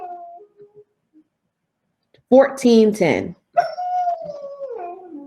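A dog whines and whimpers with high, wavering cries to go outside, several drawn-out bursts close by, with a person's voice briefly before them.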